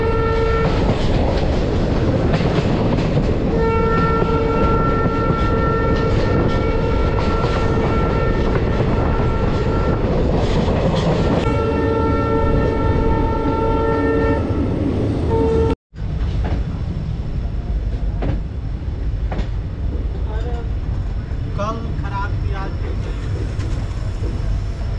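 Jan Shatabdi Express running toward Rishikesh, steady loud rumble of wheels and carriages with rhythmic clickety-clack, a long sustained horn blast midway, then a brief dropout and continued rolling noise.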